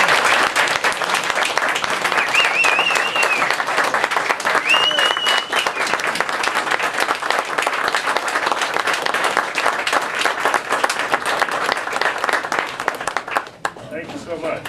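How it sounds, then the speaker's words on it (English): Loud, sustained applause from an awards-event audience honoring Jim, dense clapping filling the room for over ten seconds with a few shouts mixed in, before fading at the end. "I really appreciate it if everybody give Jim a round of applause"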